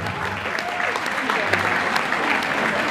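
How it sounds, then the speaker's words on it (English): An audience applauds performer Moon Kahele at a talent search contest, a dense, steady burst of clapping from a crowd, loud and close, with some voices mixed in. "please a big round of applause for Brother Moon Kahele."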